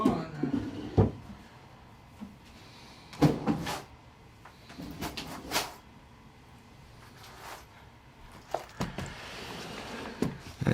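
A drawer of hobby components, snaps and dies for a snap press, slides and clunks through several scraping, knocking bursts spread over about ten seconds, close and moderately loud with quieter handling noise between.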